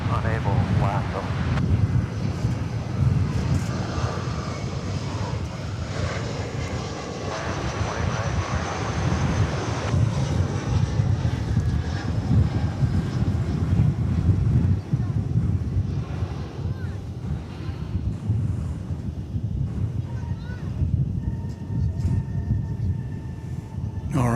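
American Airlines jet on ILS approach to runway 18 right at DFW Airport, a sustained loud roar of aircraft engines with broadband rumble persisting and fading slightly over the span, with a person talking over it at times.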